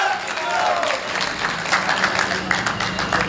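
Audience at a Hindi kavi sammelan poetry gathering breaking into brisk applause, a busy crowd of claps that stays fairly loud throughout, with a brief voice at the start.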